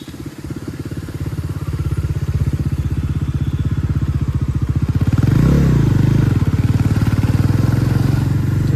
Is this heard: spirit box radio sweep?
no